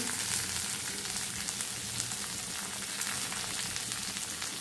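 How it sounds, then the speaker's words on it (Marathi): A soft, steady sizzle of vegetables, including carrots, sautéing in a spice tempering in oil for upma, faint and continuous with light crackling and no voices. "आणि आता ही फोडणी आपण छानपैकी परतून घेऊया."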